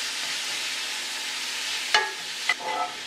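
Shrimp hiss in a hot dry pan in a steady, fairly quiet sizzle, with two brief louder stirring scrapes near the end.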